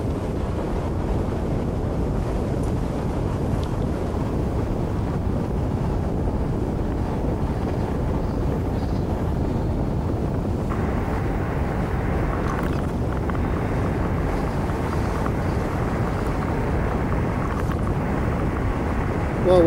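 Steady, loud wind rush buffets the microphone while riding a Super Soco TC Wanderer electric motorcycle along a road, a continuous roar with no voices and no engine note.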